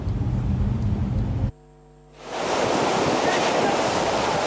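Rushing floodwater of a swollen river at Jati Bandeng, Situbondo, a loud, dense roar of churning current close by that briefly drops out in the middle before surging back in full force.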